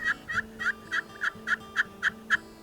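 A steady run of about nine crisp turkey yelps drawn on a slate friction call, sharp and close, evenly paced with short pauses between notes over a faint background hum.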